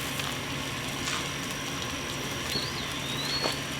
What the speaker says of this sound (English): You can hear him sizzling away over the sound of that air conditioner